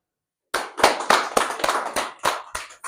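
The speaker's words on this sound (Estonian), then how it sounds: "Kui meeldis, teeme aplausi." Audience applause after a talk on Ukraine's war gains for Tartu, starting after half a second of silence as a small group claps in loose, distinct bursts of sharp hand claps, fairly close and moderately loud, with no talking over it.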